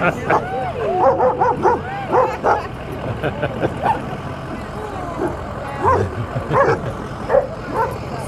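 An excited dog riding on a parade vehicle yips, whimpers and barks in short repeated bursts, close and fairly loud over a vehicle's low rumble, with people talking around it.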